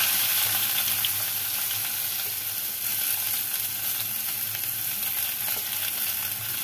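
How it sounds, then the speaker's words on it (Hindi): Onion fries in oil with roasted cumin and asafoetida, giving a steady, dense, close sizzle that hisses continuously without a break. "जैसे ही हमारा जीरा भुनने लग जाए वैसे हम प्याज डाल देंगे।"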